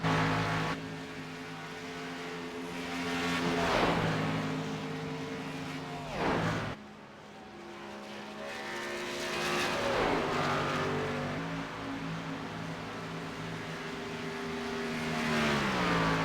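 Stock race car in an Xfinity Series race at Charlotte coming down pit road, its engine droning and shifting in pitch over several swells amid steady track noise from other cars.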